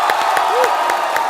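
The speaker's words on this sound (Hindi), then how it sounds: "आप सबकी जोरदार तालियों के बीच में बुलाना चाहूंगा" Studio audience of a Hindi TV comedy show applauding and cheering as actor Vicky Kaushal is welcomed on stage, a steady loud wash of clapping and crowd noise with a few whoops throughout.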